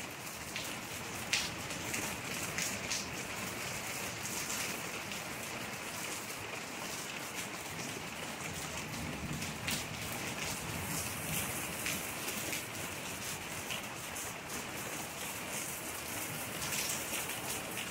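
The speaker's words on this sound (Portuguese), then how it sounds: "Começou uma chuva também" Steady rain falls outdoors, a constant even hiss of drops with faint scattered taps, continuous and unbroken, no talk.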